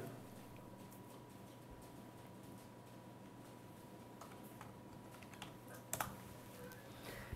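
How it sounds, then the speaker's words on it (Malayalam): Someone types an author's name on a computer keyboard: quiet, rapid key clicks in an irregular run, with a couple of sharper taps near the end, over faint room hum. "ഇവിടെ ഞാൻ ടൈപ്പ് ചെയ്തത് മുകുന്ദൻ എന്ന പേരാണ്"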